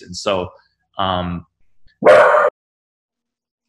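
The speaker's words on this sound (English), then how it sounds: "sorry about the dog." A dog barks three times at close range in a quiet room, each bark a loud, sharp burst separated by pauses, with a brief spoken word partly overlapping.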